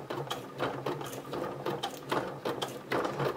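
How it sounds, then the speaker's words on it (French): A sewing machine stitches a clear PVC vinyl pouch with bias binding, running in short, even bursts of rapid mechanical clatter, close and alone. "Et maintenant, je vais coudre, j'allais dire classique."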